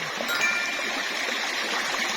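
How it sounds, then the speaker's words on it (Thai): A steady, even rush of a stream flowing by a waterfall, continuous and fairly close, with no other sounds standing out. "ลำธารสวย"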